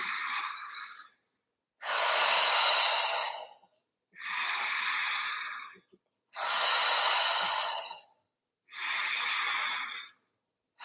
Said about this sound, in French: On inspire avec son nez, on souffle avec la bouche.